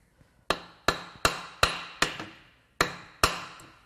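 A hammer bangs on parts of a blown Subaru BRZ / Scion FR-S FA20 boxer engine during teardown, seven sharp metallic strikes at an uneven pace, loud and close with short ringing tails.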